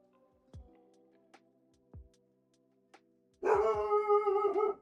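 A puppy barks angrily with a burst of sharp, close yaps toward the end, after a few faint thumps, with no talk.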